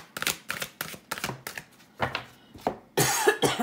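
A rapid series of harsh coughs, close and fairly loud, bunched in short bursts with a heavier, noisier burst at the end.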